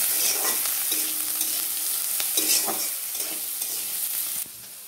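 Vegetables frying in a pan with turmeric and salt for a vegetable dal: continuous loud sizzle with occasional stirring scrapes and clinks, close up, with no talking.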